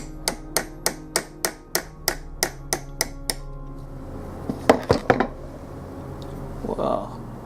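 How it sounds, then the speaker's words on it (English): A hammer strikes a piece of mild steel being tested against a knife edge, about ten sharp metallic blows in a steady rhythm, then a few scattered knocks and handling sounds. "this is a piece of mild steel. Let me grab a hammer."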